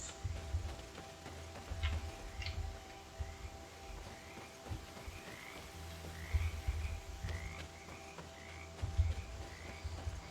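Frogs croaking in a swamp in the video game GreedFall, a steady series of low repeated croaks at a moderate distance over a faint ambient hum, with no talking.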